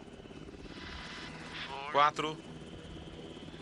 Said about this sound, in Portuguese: O helicóptero está em posição.